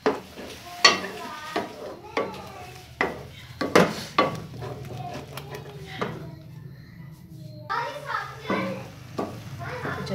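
Chopped ingredients and green coriander are mixed into tawa daal anda, with sharp clinks and scrapes of a utensil against the pan coming in irregular bursts, close by, while voices murmur in the background.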